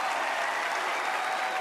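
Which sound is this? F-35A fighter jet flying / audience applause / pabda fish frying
audience applause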